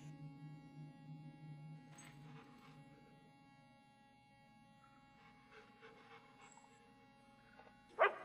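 A dog in the video game Fable 2 gives faint barks and whimpers over a low, steady game hum, with a short sharp sound near the end.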